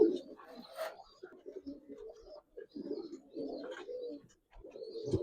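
Giribaz pigeons coo softly in low, throaty phrases, close by and fairly quiet, with brief gaps and faint higher background sounds.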